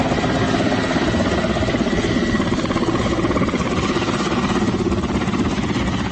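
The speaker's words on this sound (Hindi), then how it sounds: "इस समय आप जम्मू एयरफोर्स स्टेशन पर जो MI-17 हेलीकॉप्टर ड्रिल्स दिखा रहा है" A Mi-17 helicopter performing drills at the Jammu Air Force Station air show: a loud, continuous engine roar with steady rotor thrum that fills the whole stretch without letup.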